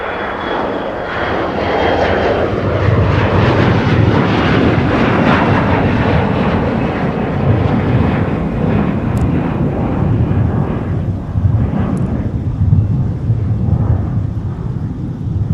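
An Airbus A330neo jet airliner in Team USA livery rumbles and roars as it taxis at a winter airport, a loud, steady engine drone with a broad low-end rush that barely wavers throughout.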